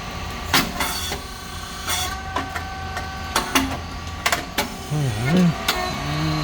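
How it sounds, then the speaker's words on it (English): A SYP5050 rice cake machine with coated moulds runs in repeated cycles, giving sharp clanks and pneumatic hisses over a steady mechanical hum, with a person talking and a tonal whine near the end. "and release it, and machine work again"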